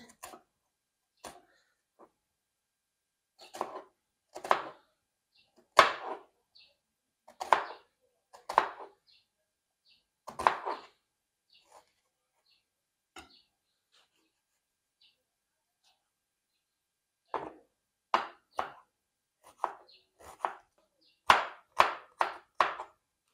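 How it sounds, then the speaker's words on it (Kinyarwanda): An onion is chopped with a knife for an omelette, in bursts of sharp rhythmic knife strikes on a board, a pause in the middle, then a faster run of cuts, close and fairly quiet. "Tugiye gukata rero ibyo dukoresha mu magi. Igitunguru kimwe,"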